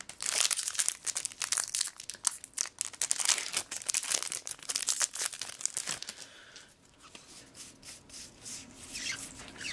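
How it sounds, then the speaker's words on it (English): Foil Magic: The Gathering booster pack wrappers, Modern Masters, being crinkled and torn open by hand: dense, close crackling and ripping bursts for about six seconds, then softer rustling of handled packs. "crack these packs open"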